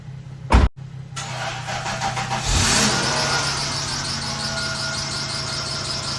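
A Lexus SC430 coupe-convertible with coilover suspension cranks over with a loud burst, then catches and settles into a steady idle, heard up close with no talking.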